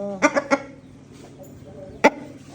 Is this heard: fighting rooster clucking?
yes